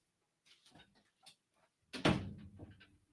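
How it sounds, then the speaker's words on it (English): A door gets shut nearby: soft rattling and handle fumbling, then one solid thud of the door closing, followed by brief settling noise in a quiet room. "Let's shut the door again."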